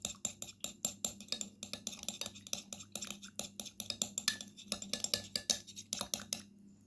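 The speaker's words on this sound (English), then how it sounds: "Now mix well all the ingredients." A utensil stirs cucumber and lemon juice in a bowl for a skin remedy, quick rhythmic clinks and scrapes in a steady run of strokes that stop just before the end, close and fairly quiet.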